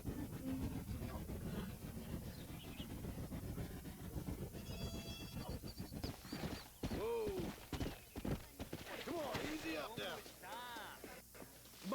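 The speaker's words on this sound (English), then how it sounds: "Now, this is a really long horse riding section." Horse hooves clip-clopping at a steady riding pace in the Red Dead Redemption video game, mixed with game music and rumbling ambience, with someone talking throughout.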